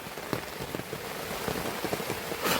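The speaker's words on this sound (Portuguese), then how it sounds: "Muita chuva aqui, ó. Torozão de água caiu aí agora." Heavy rain pours on a palm-thatch forest shelter being built in the woods. The downpour is a dense, steady hiss throughout, with close, scattered drips and taps striking the thatch and ground.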